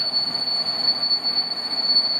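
A train pulls into Rawicz station with a loud, continuous high-pitched wheel squeal over a rumbling rail roar, close and unbroken throughout.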